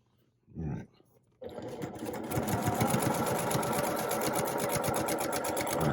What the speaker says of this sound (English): Put a couple stitches in. Let's back stitch.